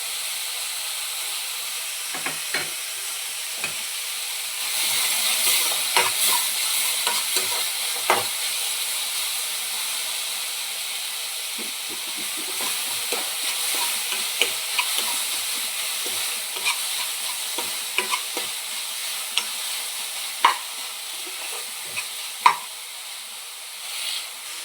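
Onions sizzle steadily in a hot pan while a spoon scrapes and stirs them in scattered clicks and scrapes, close and alone, with the frying hiss swelling partway through.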